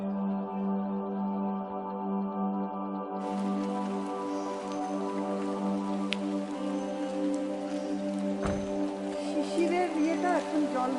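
Rain falling in a forest of old sal trees, a dense steady patter spreading across the surface with occasional nearby drips, carrying on under a sustained tonal hum.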